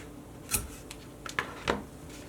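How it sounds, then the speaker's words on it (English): Scissors snip through 550 paracord while a DIY dog collar is being made: several sharp, close, quiet cuts with short pauses between them, in an otherwise quiet room. "So I'm going to cut this about the same length as I was doing before."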